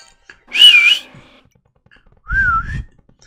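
Whistling in a Pokémon video game, two separate clear whistled tones with a pause between them, the first high and wavering, the second lower and sliding upward over a soft low rumble.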